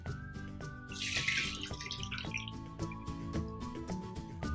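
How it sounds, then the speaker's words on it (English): Warm water is poured into a bowl of clear glue while making fishbowl slime: a short splashing gush near the start, softening into a trickle, all beneath a rhythmic music track. "And then you pour 1 cup of warm water."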